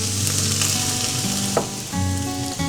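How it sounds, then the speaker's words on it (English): Vegetables sautéing for a spinach and tomato omelette fill the pan with a steady, close sizzle and crackle, with a brief stir or utensil scrape near the middle and no talking. "Get this sauteed enough."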